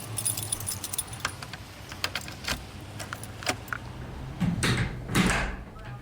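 Keys jangle and a door opens in an old-time radio thriller drama, with several sharp metallic clinks and rattles followed by louder handle and latch clunks near the end, close and moderately loud.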